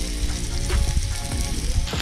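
Posto pakoda frying in hot oil outdoors, a dense, constant bubbling sizzle heard up close for a couple of seconds with no voices.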